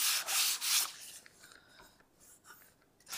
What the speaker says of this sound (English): just sanding it a little bit